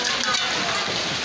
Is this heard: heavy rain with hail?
yes